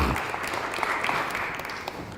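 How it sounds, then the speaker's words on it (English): Audience applause filling a room after people are thanked at a talk, a steady dense clatter of clapping hands lasting the whole short stretch without pause. "Give your peers a round of applause"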